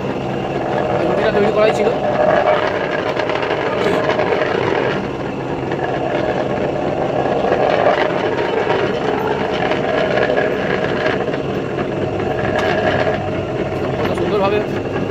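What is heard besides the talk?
dough rolling machine running for making nimki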